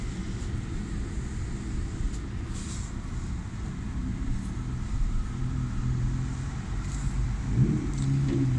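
Car driving along Las Vegas Boulevard near Sahara in Las Vegas, a steady low engine and road rumble heard from inside, continuous and moderately loud, with a slight swell toward the end and no talking.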